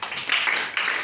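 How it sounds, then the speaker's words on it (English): A class claps for a student in a school lesson, a brief burst of close, dense hand claps lasting about a second with no talk over it. "Clap for her, please."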